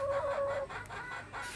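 Chickens on a spacious farm plot cluck close by, a steady run of short clucks with one drawn-out call near the start, and no voices.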